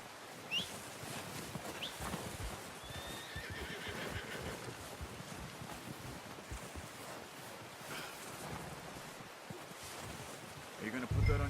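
In Red Dead Redemption 2, a horse whinnies and its hooves clip-clop softly and steadily under faint insect buzzing in the background.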